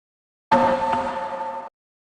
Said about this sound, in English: Hollow thud echoey hallway.